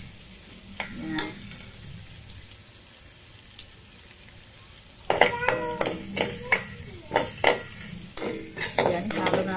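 Food frying in a pan with a steady high sizzle throughout, joined after about five seconds by repeated scraping and clinking strokes of a utensil stirring it, close and fairly loud in a home kitchen.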